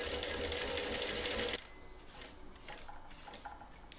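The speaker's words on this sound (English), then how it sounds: "So we're going to stitch it down to here and then come off at an angle" A sewing machine runs fast stitching a fabric bell pull runner for a close, buzzing burst of about a second and a half, then stops, leaving faint handling clicks and rustles of the fabric.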